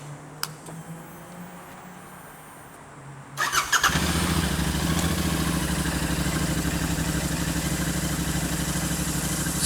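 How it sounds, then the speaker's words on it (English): A Royal Enfield motorcycle with stock exhaust pipes sits quiet with a few faint clicks, then cranks and starts, settling into a loud, steady, throbbing idle close by. "to see how loud this motorcycle actually is before we get the pipes on"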